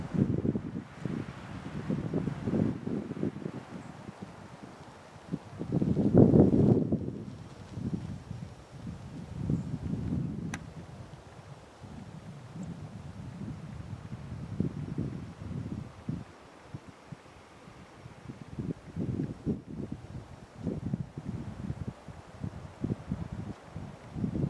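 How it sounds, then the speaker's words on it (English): Gusty wind blows over a mountain hiking trail on a ridge, rumbling against the microphone in uneven low surges that peak briefly and then ease, alongside faint rustling. "Love the sound of the wind."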